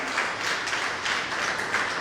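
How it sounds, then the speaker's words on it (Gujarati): An audience applauding a speaker at a women's book-talk gathering, steady dense clapping that holds at an even level throughout, with no talk over it. "તો એકવાર જોરદાર તાળીઓથી આપણે એમને વધાવી લઈએ."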